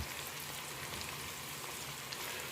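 Sausages fry in oil in a pan with a steady, even sizzle, a soft continuous crackle that holds at the same low level throughout.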